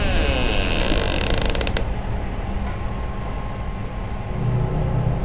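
A loud, sustained metallic creak of a heavy door opening in the horror game Poppy Playtime, grinding and ratcheting for nearly two seconds before giving way to a low, rumbling ambient drone.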